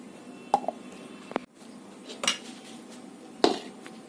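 Metal clinks and knocks of a lid settling onto a pan while coconut with dry chillies cooks for narkeler bora, a few sharp close clatters spread over quiet kitchen background.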